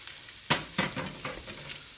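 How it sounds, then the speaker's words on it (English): Shrimp sizzle and crackle in a hot pan, with a steady frying hiss broken by several sharp bursts as the food is stirred or moved, close and moderately loud. "And you get all that sizzle going on right now."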